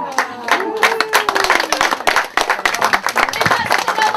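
Audience clapping at a circus show, dense and continuous throughout, loud and close, with scattered voices mixed in.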